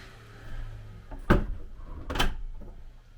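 Hard-to-shut door slammed closed and locked, two sharp thuds about a second apart, close and fairly loud in a quiet room.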